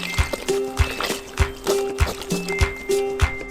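A litre of 20% fat cream is poured into a large outdoor cauldron of roast pieces, with a liquid trickle and steady glugging in a regular rhythm.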